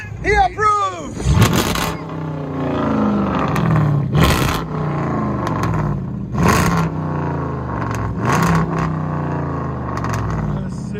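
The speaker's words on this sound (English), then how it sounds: "Look at that idle, man. That sounds so good." A 2013 Chrysler 300 S with a 5.7L HEMI V8 and straight-piped true dual exhaust idles close by with a deep, lumpy rumble, pulsing roughly every two seconds while people talk over it.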